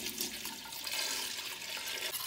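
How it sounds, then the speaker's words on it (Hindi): Two liters of buttermilk (lassi) poured into a pot for Punjabi kadhi pakora, a steady splashing liquid rush heard close and alone. "इस तरह इसको मिक्स करके इसमें 2 लीटर लस्सी डाल देनी है।"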